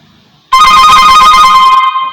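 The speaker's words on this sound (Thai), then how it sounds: "ตอนนี้โทรศัพท์เข้า ต้องขออนุญาต" A telephone ringing with an incoming call, a loud, continuous electronic bell trill that starts abruptly and holds steady for over a second.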